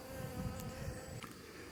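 Honeybees gather at an open beehive beside brood frames, drawn by the smell, and make a steady, dense, close buzzing with no talk.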